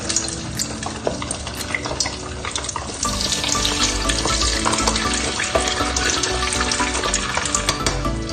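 Air-dried pork belly for lechon kawali goes into hot oil, a dense crackling deep-fry sizzle that swells louder partway through and keeps bubbling steadily, close by and with no talk.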